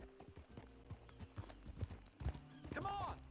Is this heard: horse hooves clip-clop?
yes